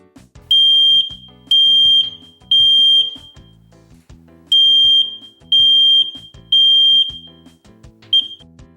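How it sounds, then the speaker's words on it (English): A smoke detector under test sounds a loud, piercing electronic beep in repeated long pulses with short gaps, stopping briefly before resuming and ending on a clipped chirp. "When the detector is powered up and the green light is on, retest the device to make sure it is working properly."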